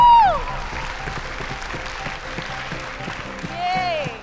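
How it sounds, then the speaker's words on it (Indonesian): Audience applause for comedian Dani Beler at a stand-up comedy competition show, a steady wash of clapping with a host's voice heard over it at the start and end. "Tepuk tangan buat Dani Beler."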